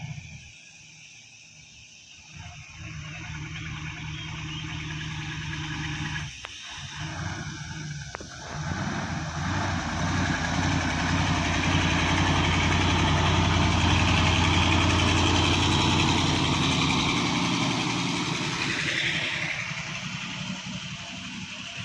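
A truck's engine idles with a steady low rumble on a wet toll road near Banda Aceh, growing louder and closer midway before easing off slightly, with traffic noise around it.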